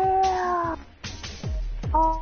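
Kitten cosmetic in a video game meowing: two or three clear, close cat meows with falling pitch, separated by brief pauses, heard alone without talk.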